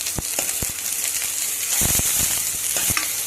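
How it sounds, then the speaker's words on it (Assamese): Eggplant pieces fry in a pan for a village-style mustard baingan curry, giving a steady close sizzle and hiss with scattered sharp crackles and pops throughout. "এনেই বেঙেনাখিনি মই ভাজি দিওঁ আগত"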